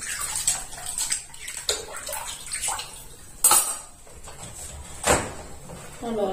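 Dishes and glasses are washed under running water, with clinks of glass and cutlery and scattered knocks over a steady stream, fairly close.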